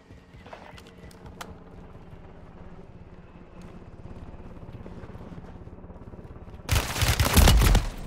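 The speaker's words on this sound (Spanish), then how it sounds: "Sale el helicóptero." A helicopter in Warzone 3 arrives as a steady, low rhythmic rotor chop that builds gradually, then a sudden loud, dense burst of noise hits near the end.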